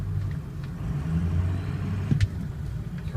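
A 2003 Ford F350 dually Lariat 4x4 pickup backing up in reverse, its engine a steady low rumble throughout with a brief soft knock near the end, heard from close by and moderately quiet.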